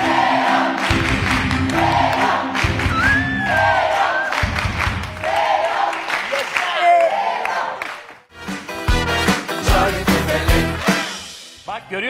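A studio audience on the Turkish game show Çarkıfelek claps and cheers over loud music stings, the crowd noise rising and falling in bursts with a brief dip partway through.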